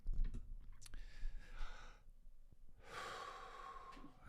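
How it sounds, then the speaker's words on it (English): Quiet, close breathing from a person at school, a few soft airy breaths and small clicks with a louder rushing exhale near the end, no talking. "It's you breathing."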